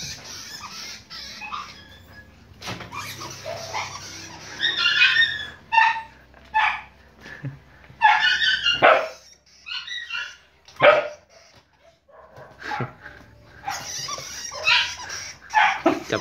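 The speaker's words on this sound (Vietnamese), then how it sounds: "Chó thấy con chuột nó phóng lên táp gớm." A dog barks repeatedly at a rat caught in a sewer-rat trap, bursts of sharp barks and yips in irregular clusters separated by short pauses, close and loud.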